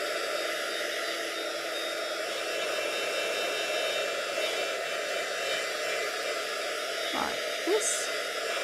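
Hair dryer blowing steadily and loud at close range, drying paint on a summer sunflower craft project; the continuous whoosh runs the whole time with a brief voice and small handling noises near the end.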